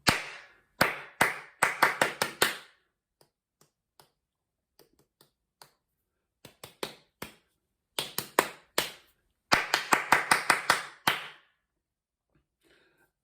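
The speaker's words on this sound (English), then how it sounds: "Let's just have one more go through Mezzo Popadoms together with our claps" Hand claps in a rhythm lesson beating out a pattern in short bursts, crisp and close, separated by quiet gaps with a few isolated claps.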